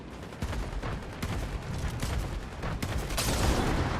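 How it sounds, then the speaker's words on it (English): AI-controlled enemies fire in Fortnite Zero Build, producing repeated gunshot bursts and booms at an uneven rhythm, fairly distant and moderately loud. "It's actually an AI shooting at him."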